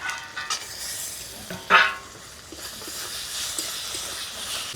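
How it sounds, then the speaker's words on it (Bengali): Spices, green chilli and cashew nuts fry in a pan with a steady soft sizzle, while a spatula scrapes and stirs in irregular bursts, one sharper scrape standing out. "সব মশলাগুলো ভাজা হয়ে গেছে"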